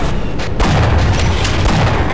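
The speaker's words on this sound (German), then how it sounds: "wir schießen mit allem, was wir haben" Heavy gunfire in the shooter game Half-Life: Opposing Force, a dense, loud, continuous barrage of booming shots with no gaps, filling the whole stretch.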